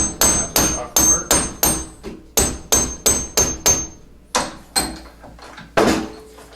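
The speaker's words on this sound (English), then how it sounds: "use your rubber hammer" Rubber hammer strikes a KYB rear shock absorber clamped by its clevis in a vise, about a dozen sharp, loud blows in quick rhythmic bursts with brief pauses.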